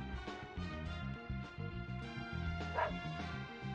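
Dog barking and yipping in the video game Deadly Premonition Origins, several short barks and whimpers over a steady tonal game music bed, moderately quiet.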